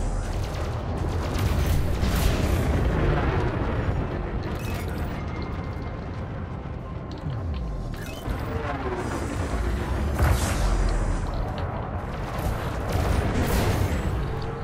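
Sustained plasma weapon fire during pirate hunting in the space combat game Elite Dangerous, a dense barrage of booming blasts and rumbling impacts over steady ship noise, with a few sharper bursts.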